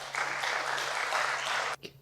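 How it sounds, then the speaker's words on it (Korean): A short burst of welcoming applause from a staff retreat congregation at a Nazarene university gathering as the pastor steps up, steady for under two seconds and then cut off abruptly. "목사님 나오실 때 환영하는 박수 해주시면 좋을 것 같습니다."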